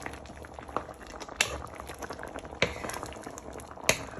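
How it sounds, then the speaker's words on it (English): A fish and prawn stew with smoked fish and chickpeas simmers in a lidded pot, giving a steady low bubbling with a few sharper pops, close and fairly quiet. "You'll place your fish in and put the lid on so your fish and prawns can finish cooking"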